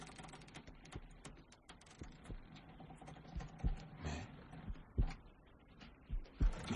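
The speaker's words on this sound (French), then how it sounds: "Mais on dirait le bruit d'un battement de cœur." A heartbeat sound effect in a nighttime theatre story about a living schooner: soft, low thumps recur at loose intervals over a quiet, faintly rustling background, growing a little more pronounced toward the end.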